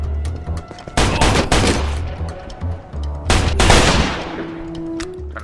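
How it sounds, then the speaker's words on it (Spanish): Revolver fires repeatedly in the video game Mafia II amid a loud, dense gunfight, with heavy bursts of shots and booming reports overlapping one another throughout. "Suena bien chingón el revólver."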